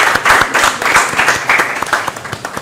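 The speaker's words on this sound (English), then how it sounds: "a round of applause" Applause from an audience at a safe and healthy convention, a dense burst of many hands clapping fairly close and loud, steady throughout with no talk over it.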